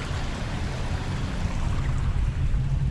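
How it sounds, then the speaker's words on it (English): Water flows steadily beside a lakeside taverna at Zaros Lake in Crete, a continuous broad rushing wash with a low rumble beneath, even in level throughout and free of talk. "with the sound of the water,"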